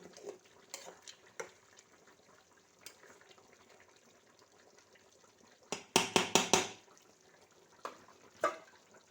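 Cumin and coriander powder being stirred into a small tilapia fish curry in a pan, with a few soft scrapes early on and a short burst of sharper stirring clatter near the end, no talking.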